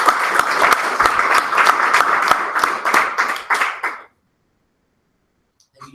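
Audience applause at a Toastmasters club meeting, a few seconds of brisk, close clapping from a modest crowd that tapers off and stops abruptly, followed by near silence.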